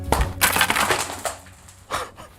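A thin sheet of clear, brittle chocolate glass snaps and crackles in a sharp crunchy burst, followed by smaller scattered cracks and a final short crunch, close and fairly loud.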